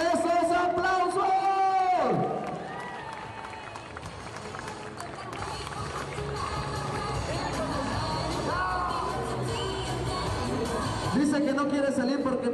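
A large crowd roars, whoops and shouts in a loud, sustained burst, with applause and babble mixing in and surging again at the end; a nearby voice calls out over the noise at the start.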